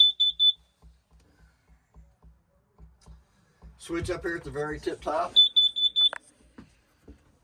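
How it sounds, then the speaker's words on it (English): A smoke alarm in a 2022 Lance 855S RV gives one short, high, piercing beep at the start and another near the end, with someone talking between them and faint ticking underneath. "Does have a smoke alarm, a little annoying sound."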